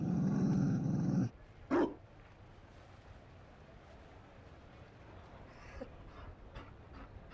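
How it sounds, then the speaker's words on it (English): A Mabari dog in the video game Dragon Age Inquisition growls and pants in a loud rough burst, then gives one brief sharp yip before quieter ambient sound and faint scattered noises follow. "You found a dog."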